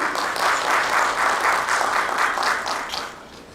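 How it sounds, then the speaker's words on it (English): An audience at a domestic violence awareness panel applauds a panelist, with a full, steady round of clapping that fades slightly toward the end. "Please give a round of applause for her."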